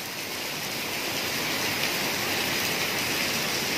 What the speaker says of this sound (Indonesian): Eh, hujan deras eh.